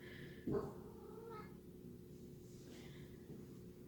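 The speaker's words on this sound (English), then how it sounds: "I'm not sure if you could hear my cat in the background." A single short cat meow rises briefly over a quiet, steady room hum, with faint soft sounds trailing afterward.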